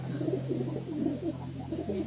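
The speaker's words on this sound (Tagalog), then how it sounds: "Ang dami dito. Kalapati." Pigeons coo softly in a steady, repeating burble, close by, over a constant background hum.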